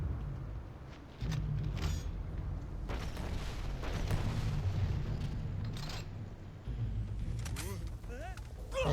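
White-hot plasma rifle rounds firing in the video game Starfield, a dense roar of blasts and booms running almost continuously at close range, with a person talking over the action.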